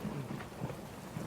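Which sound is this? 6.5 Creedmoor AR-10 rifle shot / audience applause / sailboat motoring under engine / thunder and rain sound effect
thunder and rain sound effect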